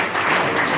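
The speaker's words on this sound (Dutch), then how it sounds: "Applaus." Audience applause at a 25th anniversary celebration event, a steady, dense burst of clapping filling the short moment without any talk.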